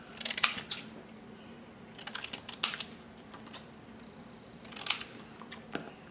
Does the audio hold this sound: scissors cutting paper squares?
yes